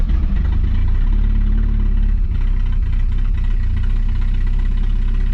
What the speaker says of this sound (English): Alright, here we go. I'm gonna hold the choke on.